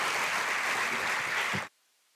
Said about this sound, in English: I again request you to clap once of all for all of us.